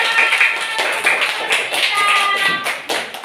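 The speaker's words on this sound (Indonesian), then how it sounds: "Beri tepuk tangan yang teman-teman" Group of classmates clapping for presenters in a classroom, a dense patter of hand claps running steadily throughout at moderate loudness, with some voices mixed in.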